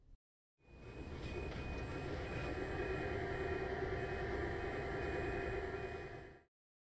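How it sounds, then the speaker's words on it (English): A three-phase PWM motor drive starts up and runs, a steady mechanical hum with high whining tones that rises quickly, holds level for several seconds, then stops, with silence on either side. "I'll be starting the motor drive."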